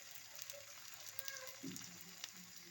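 Katmer dough sizzles quietly in hot oil, a soft steady frying crackle with a few brief louder spits and stirring touches, alone and faint.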